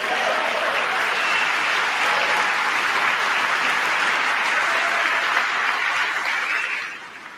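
Sustained applause from a large chamber gallery, a dense, even wash of clapping holding steady for several seconds before tapering off at the end.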